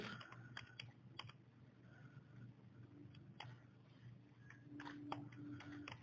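Fingers type on a computer keyboard in faint, scattered clicks and short bursts of keystrokes, soft and low-level over a quiet background hum.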